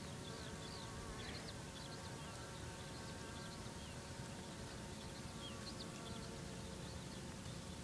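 Honeybees buzz steadily around a beehive on a bee farm, a dense continuous hum of many insects near and far with no talking.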